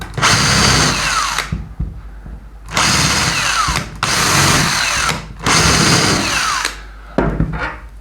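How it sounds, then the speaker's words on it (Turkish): Pillar drill with a metal drill bit boring through a workpiece, heard as three loud, steady whining runs of a few seconds each, separated by short pauses, with a brief start at the end; no talking. "bu uç sütun matkapta çok daha güzel iş çıkartacaktır"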